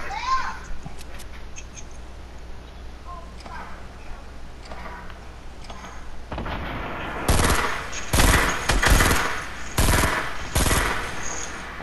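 Gunfire in a shooter video game, mostly faint, with a late burst of loud, rapid automatic shots after quieter stretches; a voice talks over it earlier on.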